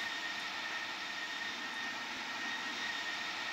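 Steady, unbroken roar of an Airbus airliner's jet engines cruising high over the Tyrrhenian Sea in Microsoft Flight Simulator X, a constant loud cabin drone with no talk.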